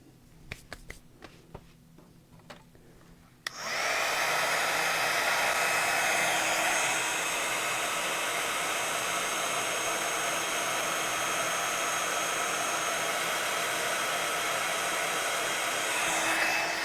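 A heat gun blows hot air to melt gold embossing powder on a December journal page. A few quiet handling clicks come first, then a loud, steady whooshing roar starts abruptly and runs unbroken to the end.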